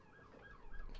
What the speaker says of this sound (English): we got sirens outside